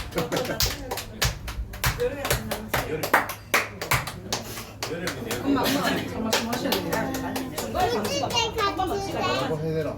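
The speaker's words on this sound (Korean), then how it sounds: "이거 완전 박수 한 번 주십시오" Guests at a seventieth birthday party clap in quick, scattered bursts, mixed with lively chatter and children's voices in a busy room.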